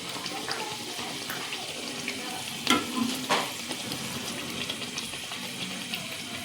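Pumpkin gharya, sweet fritters, deep-frying in hot oil with a soft continuous bubbling hiss and a couple of louder splashy crackles partway through.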